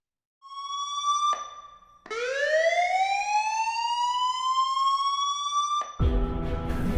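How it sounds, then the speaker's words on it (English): Emergency vehicle siren wailing loud and close, a steady high tone that cuts off, then a long rising sweep that holds before a burst of broadband noise at the end; no voices. "That sound of the emergency squad happens 34 times per hour, 24/7 in the United States"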